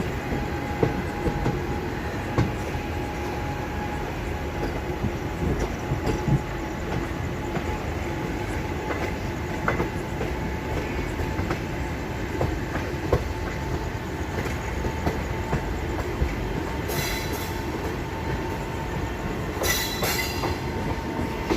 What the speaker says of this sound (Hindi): हज़रत निज़ामुद्दीन से सिकंदराबाद की दुरंतो लगी हुई है, देखिए भाई लोकोमोटिव लगा है इसके साथ